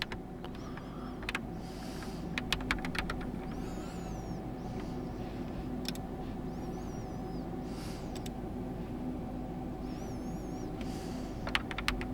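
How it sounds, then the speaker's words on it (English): Keys on a DarkBeacon Flux 87 HE keyboard are pressed during calibration, giving scattered light clicks and brief tapping bursts over a steady low background hum. "and now calibrate your keyboard."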